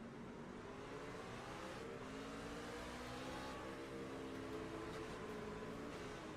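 A race truck engine in iRacing held on the rev limiter, droning steadily at a high pitch with a buzzing stutter, heard from inside the cockpit without talk.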